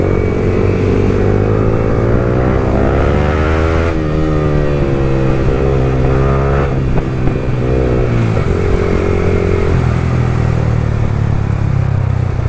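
Royal Enfield Continental 650 motorcycles on a large group ride fill the air with a loud, continuous engine roar, rising and falling revs layered from many bikes close by.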